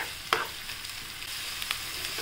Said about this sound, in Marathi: हे सगळं हलवून घेऊया